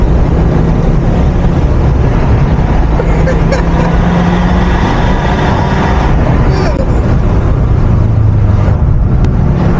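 A Ford Focus RS MK2 with 320 horsepower accelerates hard through the gears, its engine roaring loudly and continuously from inside the car, with quick shifts breaking the climbing drone.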